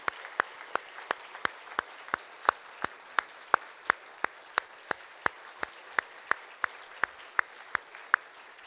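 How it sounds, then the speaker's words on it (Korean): Clapping at a Korean Presbyterian pastor's installation service in a church, heard as a single steady, evenly spaced series of about two dozen sharp claps rather than a full crowd ovation, moderately close and without talk. "박수로 축하합니다"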